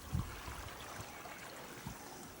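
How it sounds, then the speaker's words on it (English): Creek water at a hiking crossing in a county park, running in a soft continuous wash with a few faint low gurgles, quiet and steady, with no voices. "And the water up here is much deeper."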